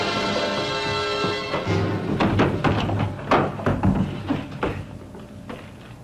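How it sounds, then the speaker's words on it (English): Weapons are dropped onto the floor in a Western film scene, making a loose run of heavy thuds and clunks that land one after another at irregular intervals, fairly close. "Drop your weapons here at my feet."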